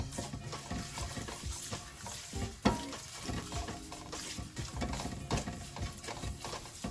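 Leftover fried rice sizzles and fries in a pan, with steady crackling and the scrape and clatter of stirring, plus one sharp knock partway through.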